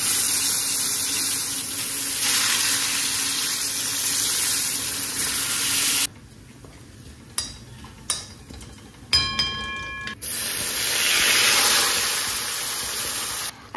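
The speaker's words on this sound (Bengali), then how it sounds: "এখানে আমি ভোলা মাছের কারিটাকে কষাচ্ছি" Bhola fish curry sautéing in a pan, a loud steady close sizzle that breaks off midway into a few sharp clatters and knocks before the frying hiss returns.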